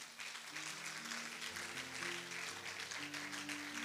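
A church congregation applauding, a faint, steady patter of many hands clapping with sustained organ or keyboard tones underneath.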